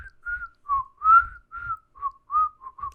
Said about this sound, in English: I'm not the best whistler.